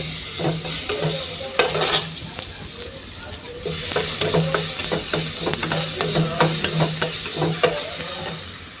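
Ginger-garlic paste is stir-fried in a pan with steady sizzling and hiss while a utensil scrapes and taps rhythmically against the metal, the frying briefly quieting before resuming strongly.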